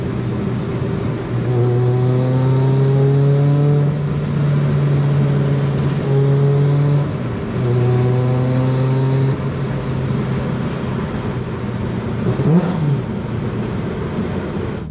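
A Mazda Miata NB fitted with a Rotrex supercharger accelerates on its first drive, its engine loud and close as the pitch climbs through several gear pulls, dropping briefly at each shift, with a steady whir throughout.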